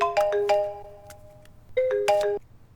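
A mobile phone rings with a bright electronic ringtone: two bursts of clear melodic tones, a short gap, then two more, close and moderately loud over a quiet background.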